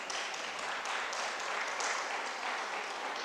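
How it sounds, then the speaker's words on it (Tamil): A crowd at a Tamil literary festival gives steady, dense applause, even and sustained throughout with no break and no speech. "நீங்கள் கைதட்டுறது எனக்கு ரொம்ப மகிழ்ச்சியாக இருக்குது."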